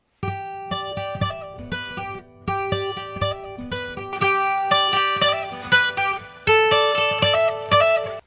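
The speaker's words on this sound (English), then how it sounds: "I decided to use this Yamaha guitar because of its brightness and overall clean tone" Mixed Yamaha acoustic guitar with a bright, clean tone, played as plucked notes and strummed chords in a rhythmic pattern with short pauses, close and clear, alone without voice.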